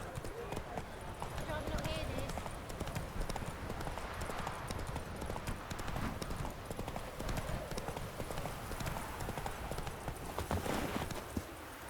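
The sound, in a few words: horse Roach galloping hooves, from video game The Witcher 3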